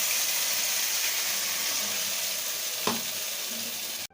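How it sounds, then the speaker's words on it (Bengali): Spice paste fries in hot oil in a pan for an egg curry, a loud, close, continuous sizzle with one sharp utensil knock midway before it cuts off; no talking. "ডিমের কারি বানানোর জন্য এই তেলের মধ্যে এবার মশলাটা দিয়ে দেবো।"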